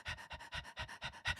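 A person imitates a dog's panting with quick, rhythmic breaths, about six close, even in-and-out puffs in a row with no talking.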